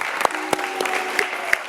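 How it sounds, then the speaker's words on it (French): Audience applause during a French religious TV broadcast after a birthday song, a steady patter of clapping with a few sharper claps standing out, fairly close and without talk. "On applaudit."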